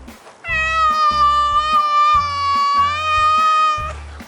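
A Maine Coon cat gives one long, thin, high-pitched meow lasting about four seconds, loud and close, over a low rhythmic background beat.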